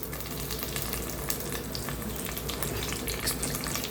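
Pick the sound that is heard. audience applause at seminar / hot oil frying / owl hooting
hot oil frying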